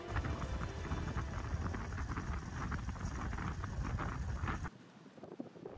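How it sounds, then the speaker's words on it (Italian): Strong wind by a beach beside an abandoned hotel in Vietnam buffets the microphone with a loud, continuous rumbling roar, then drops abruptly to a quieter hiss near the end. "Tira molto vento qui e lo spot non è il massimo."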